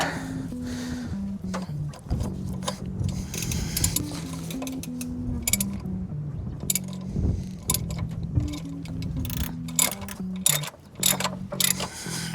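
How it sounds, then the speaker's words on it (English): A half-inch drive ratchet with a 14 mm socket works on a 1998 Chevy C1500 V6 during a power steering pump install, giving loud, close, rapid clicking in repeated bursts. "half-inch drive ratchet, 14 mil socket"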